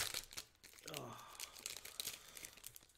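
Foil wrapper of a Final Fantasy TCG booster pack crinkles and tears open in a brief crunchy rip, fairly quiet and close, amid scattered rustling handling sounds.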